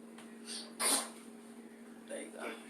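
A single sharp sneeze close to the microphone in a kitchen, surrounded by quiet talk and a steady background hum.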